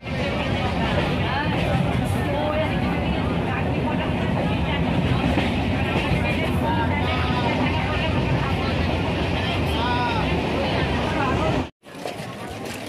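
Steady, loud rumble of a moving train heard from inside a passenger carriage, with chatter from people aboard running beneath it before a sudden brief drop.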